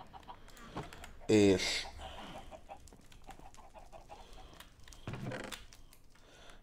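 Chickens cluck in short, fairly clear bursts in the Minecraft video game, with a louder call near the start and another a few seconds later, amid quieter game sounds and keyboard tapping.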